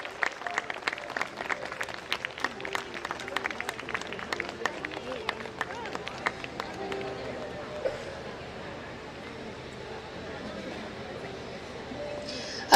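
Audience clapping at an award ceremony for the Scientists of the Year, the applause dense at first and then thinning and fading out, with some voices in the crowd.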